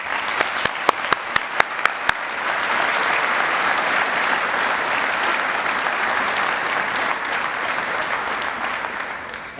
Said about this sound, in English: I want to just maybe have one more round of applause for all of our recipients